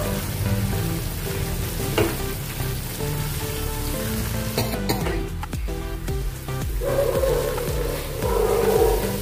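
Ground spice paste sizzling and frying in a pan while cooking a Karnataka-style apple gojju, a continuous crackling hiss with occasional stirring scrapes, close and steady with no speech.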